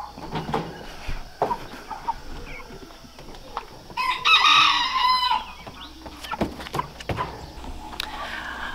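Cornish Cross meat chickens riding in a truck, with scattered clucks and squawks and one louder, drawn-out call in the middle, fairly close amid low rumble.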